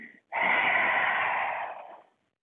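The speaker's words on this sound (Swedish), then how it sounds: "Okej, andas ut." A deep exhale during a morning breathing exercise, one long, close, steady breath out lasting almost two seconds after a brief earlier breath sound.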